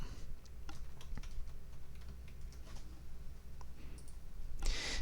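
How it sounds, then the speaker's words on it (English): Typing on a computer keyboard while writing a first Java program, a quick continuous patter of light key clicks, close and steady, with no voices. "we're going to simply type in what we want it to print out"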